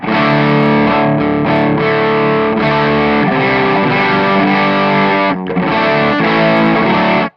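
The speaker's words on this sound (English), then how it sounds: "For me, that's real trebly, right? But it's clipping everything." Loud, heavily distorted electric guitar through a Cornford Carrera amp, a bright, trebly tone that clips hard, with sustained chords and riffs, a brief dropout near the end, and no voices.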